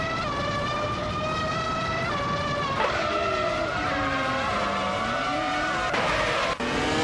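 A Ferrari F300 race car engine screaming at high revs in a racing game, with pitch rising and dropping through gear changes alongside tire squeal, loud and steady with no talking.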